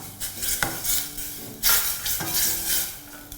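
Green curry paste stir-fried in boiling coconut cream, with a soft bubbling sizzle broken by a few loud scraping strokes of a spatula against the pan.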